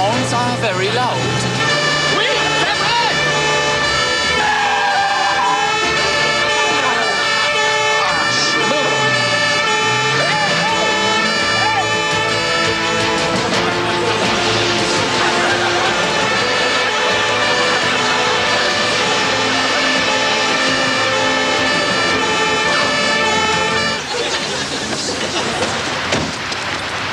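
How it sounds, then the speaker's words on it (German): Loud emergency vehicle sirens wail continuously, fire-truck style, with rising and falling tones layered over traffic and engine noise, while people speak throughout. "Scheiße, diese Sirenen sind aber sehr laut."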